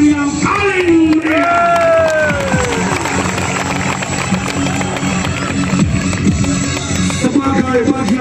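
A loud crowd at an Indonesian military anniversary ceremony cheers and whoops continuously, with shouting voices rising and falling and clapping mixed into the dense roar.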